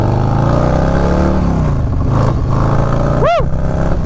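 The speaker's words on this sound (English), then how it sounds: "on this used 2020 Lowrider S with 116 horsepower and 127 foot-pounds of torque" Engine of a used 2020 Harley-Davidson Low Rider S, 116 horsepower, running steadily and loud up close, a continuous thick low rumble with shifting harmonics and a brief sharp chirp near the end; no talking.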